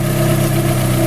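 A steady, loud engine idling at a constant rumble as timing is advanced and engine speed picks up slightly, close by, with no pauses or voices.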